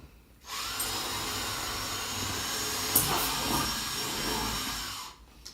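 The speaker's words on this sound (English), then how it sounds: "I'll drill one while we're here, just in the grid pattern." A power drill whirs steadily for several seconds while drilling holes in a board, a continuous close, loud grinding hum that stops abruptly at the end.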